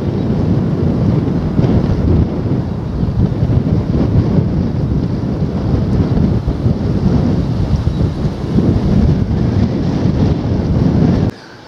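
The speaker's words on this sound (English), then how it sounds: "Wind's picking up, as you may be able to detect." Strong coastal wind buffets the microphone in a steady, loud roar on an open shoreline walk near an old chapel at Hunstanton, with faint surf-like rumble beneath, cutting off abruptly at the very end.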